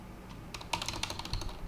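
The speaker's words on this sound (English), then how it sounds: "typing" Computer keyboard typing during a live Linux programming session, a rapid run of sharp, close key clicks at uneven rhythm, starting after a brief quiet moment and continuing to the end, with no talking.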